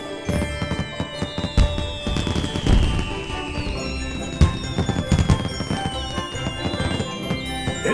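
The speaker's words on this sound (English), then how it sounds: "Look, they launched some fireworks just for you." Festive fireworks launching in a Christmas greeting from Santa, a dense run of crackling bursts and sharp pops at moderate distance, with a faint high whistle trailing across the sky, no voices heard.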